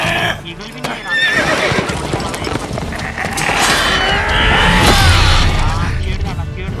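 A horse neighs loudly in The Witcher 3 as a griffin seizes and carries it off, shrill whinnies rising over game clatter and heavy effects, with someone talking excitedly through it.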